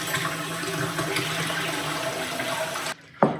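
Soaked hazelnuts and kasha seeds are rinsed under running tap water: a close, continuous rushing stream that cuts off abruptly near the end and is followed by a brief splash.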